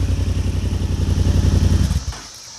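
A Yamaha MT-07 motorcycle with a new exhaust idles at about 1500 RPM with a steady, throaty pulsing rumble, then cuts off abruptly near the end, leaving quiet.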